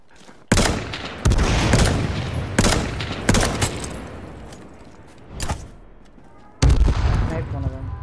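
Several loud, sharp sniper rifle shots ring out in a video game, each a sudden crack with a trailing echo, spaced irregularly with quieter gaps and a muffled thud between them.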